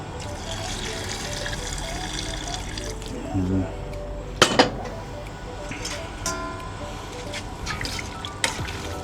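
Water pours and trickles into a cooking pan for pancit bihon, with a few sharp drips and clinks partway through, over steady background noise and faint voices.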